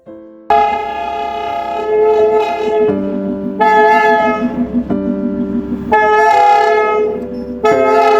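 The Darjeeling steam-powered toy train sounds a loud, sustained harmonic horn in several long blasts that shift in pitch, close and dominating, broken by short pauses.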